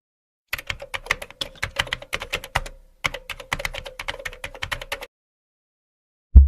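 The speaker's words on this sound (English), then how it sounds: "in search bar, we have to type VPN get." Fingers type on a computer keyboard into a browser search bar, a close, quick run of crisp key clicks in two bursts separated by a brief pause, then a soft thump, with no speech.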